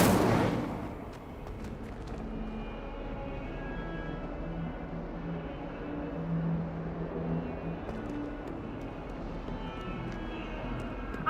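An Incendio fire spell cast in the video game Hogwarts Legacy bursts out sharply, then settles into a steady roaring, crackling rumble that holds for several seconds at an even level.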